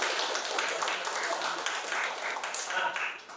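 Dense, steady clapping from a group in a university self-development class, filling the whole moment at moderate loudness with no pause.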